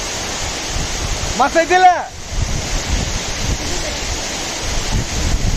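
A waterfall near Kudremukh in Chikmagalur gives off a constant broadband roar. A voice speaks briefly over the rushing water early on.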